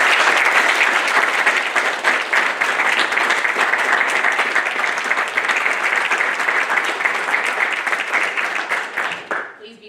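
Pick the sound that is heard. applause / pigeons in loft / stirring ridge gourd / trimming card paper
applause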